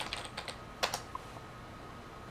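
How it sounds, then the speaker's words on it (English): Typing on a Logitech computer keyboard from a wireless mouse-and-keyboard combo: a short burst of scattered, close key clicks with a couple of sharper taps, in a quiet room. "let's type a message"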